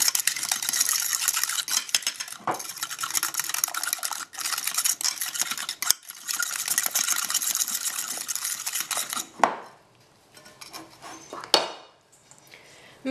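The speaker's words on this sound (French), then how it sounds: "je vais mettre la cuillère de beurre fondu, l'œuf et le sucre. Et je vais battre jusqu'à atteindre un ensemble mousseux" Melted butter, egg and sugar whisked briskly in a bowl for muffin batter, a dense rapid scraping and clicking of utensil against the bowl, then a pause and a few separate knocks and scrapes.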